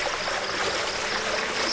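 Steady rushing flow of water in a foggy Nearwood video game scene, continuous and fairly loud with no voices.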